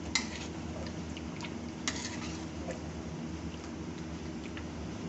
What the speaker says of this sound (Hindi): और अब फिर हम इसको हिलाएंगे।